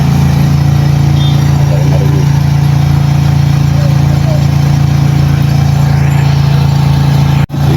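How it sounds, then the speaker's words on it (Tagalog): A backhoe engine runs beside a city river where people are fishing, a loud, steady low drone with a constant hum that stays unbroken throughout and cuts off sharply right at the end. "maingay lang talaga ang makina ng bakho"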